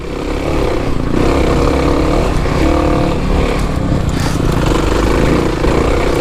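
A 2021 Kawasaki KLX300 dirt bike is given gas in second gear off road, a loud, close, steady engine drone that rises slightly in pitch as it pulls, with no talk.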